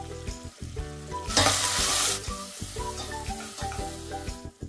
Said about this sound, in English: Add tomato and cook until it becomes soft.